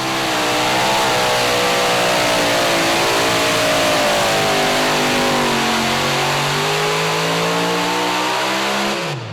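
A super modified pulling tractor engine roars under load at a pulling event, one long loud sustained howl whose pitch climbs and wavers before dropping sharply at the end.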